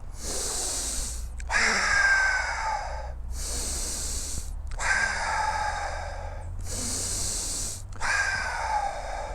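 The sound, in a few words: quick deep breaths in and out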